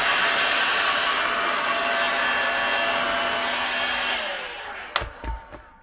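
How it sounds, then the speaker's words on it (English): Heat gun blowing hot air onto a bearing housing during a front brake shoe and bearing replacement, a steady close roar for about four seconds that winds down, followed by a few clunks and knocks. "I've heated that up to the point where it's too hot to touch"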